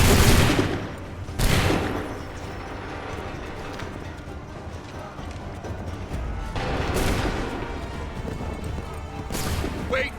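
Massed musket fire in an Assassin's Creed III battle, a loud volley at the start followed by more crackling blasts, with further bursts later, set against steady background gunfire, horse hooves and shouting.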